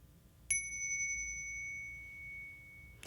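A single meditation bell is struck once during a Buddhist loving-kindness session, then rings alone as a clear, sustained, steady tone that fades slowly over about two and a half seconds in a quiet room.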